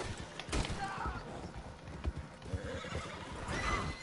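Horse galloping and neighing in a video game, rapid clip-clopping hoofbeats that come close, with whinnies rising over them and some talk mixed in.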